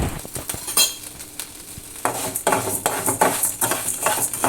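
Toor dal roasts in a pan for sambar powder, with close scraping and stirring clatter over a faint sizzle. Irregular spoon strokes pick up and grow busier partway through.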